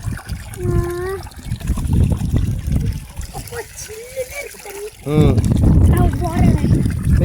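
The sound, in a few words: water splashing as someone plays in a pond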